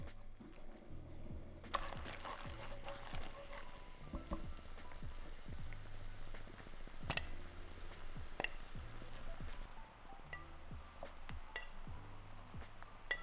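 Scallops return to a pan of creamy garlic white wine sauce with fresh parsley, giving a soft, steady sizzle with scattered light clinks and scrapes, close but quiet, no voices.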